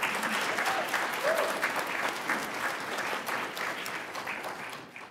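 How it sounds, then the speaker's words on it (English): Audience applause at an Assembly Speaker's lecture series, sustained dense clapping from a crowd, moderately distant and easing off toward the end. "And that deserves a round of applause."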